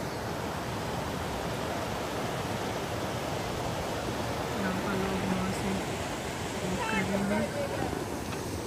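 River water flows at Bolton Abbey in Yorkshire, a steady, loud rushing roar that stays constant throughout, with brief voices heard over it near the end.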